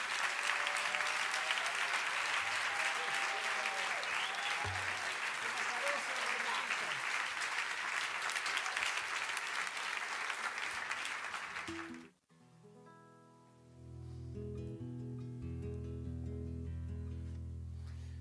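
A live audience at an improvised décima performance gives loud, dense applause for the poet Alexis Díaz Pimienta. It lasts about twelve seconds, then cuts off abruptly into quieter room sound with a held musical tone.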